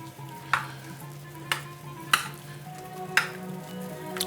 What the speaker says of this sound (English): Okay, we're gonna stir that up in there real good.